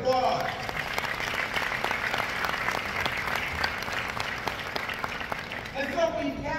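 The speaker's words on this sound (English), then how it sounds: "Let's please give you guys a round of applause." Audience at a law enforcement organization's gathering in New Orleans claps in a steady, full round of applause, dense and even throughout, with a voice rising briefly over it near the end.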